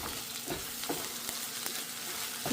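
Cauliflower rice with garlic sauce and egg is stirred in a hot pan, a continuous sizzle broken by several soft scraping strokes of the spoon against the pan.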